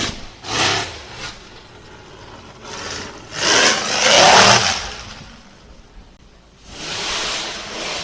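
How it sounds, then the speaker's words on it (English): An off-road buggy engine revs in several rough bursts at a race starting gate, rising and falling, with quieter idling between, heard from a moderate distance. "I hear a buggy revving up in that starting gate"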